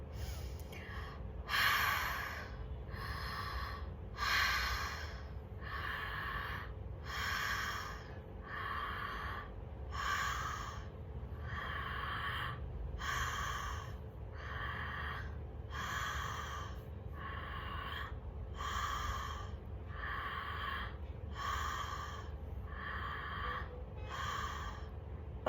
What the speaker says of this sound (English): Shamanic breathing.